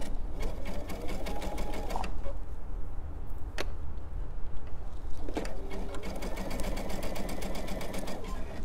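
Sewing machine running a short lock stitch through soft minky fabric for a stuffed pillow, with steady rapid needle chatter in two bursts broken by a brief pause, close and fairly loud.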